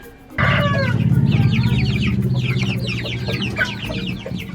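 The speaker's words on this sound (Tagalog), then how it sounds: "dito sa bahay, marami din kaming pastured chickens dito. And sometimes, kapag nagbi-video ako dito, maririnig ninyo yung kanilang mga tunog." Pastured native chickens cluck and call at home, a sudden burst of overlapping clucks that carries on steadily and fairly close, with no talking.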